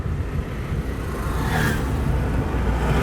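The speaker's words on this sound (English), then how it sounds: "now I will upshift from second to third" A manual car's engine hums with a steady, low rumble while the driver upshifts from second to third gear, and the pitch shifts briefly midway. No voices are heard.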